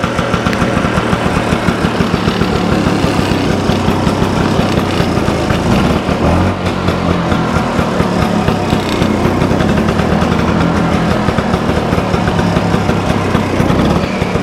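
A vintage motorcycle engine runs steadily and loudly up close, a continuous throbbing idle with no talk over it.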